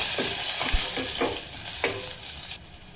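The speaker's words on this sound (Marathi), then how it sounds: "तेल तापल्यानंतर मोहरी, जिरे, हा आपण कुटून घेतलेला लसूण आहे" Mustard seeds, cumin and crushed garlic spatter in hot oil for a tempering, with a loud continuous sizzle, sharp crackles and several stirring scrapes before the frying drops quieter at the end.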